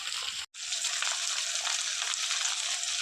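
Spices such as turmeric, chili, cumin and coriander powder sizzle in a pan with ginger, garlic and winter vegetables for a prawn chorchori: a loud, steady frying hiss, close by, with one brief cut near the start and no talking.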